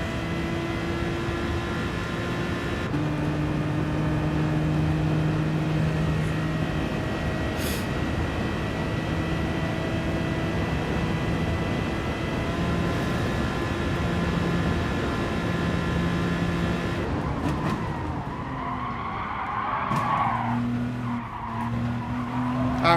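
An Alfa Romeo race car in GT Sport during an FIA Manufacturer Series race holds a steady, droning engine note with gear changes, then gives a burst of squealing tires under hard late braking near the end.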